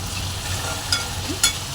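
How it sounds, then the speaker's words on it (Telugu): Bitter gourd and raw banana curry frying in oil in a pan, a steady low sizzle and bubbling with a couple of brief louder crackles and stirring scrapes. "చూడండి ఆయిల్ బయటకు వచ్చేలాగా వేగుతుంది"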